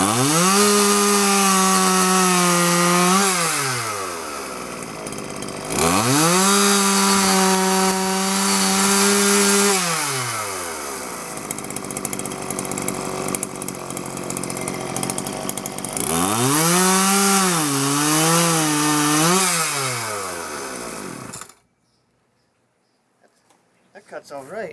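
A Homelite Ranger 33cc chainsaw with a 16-inch bar revs loudly and bogs into wood over three long cuts, then the engine stops and everything goes quiet.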